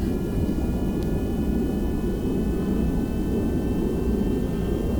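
A Me 262 jet engine in a video game roars steadily, with a loud, dense low rumble and a faint high whine held at constant level with no pauses.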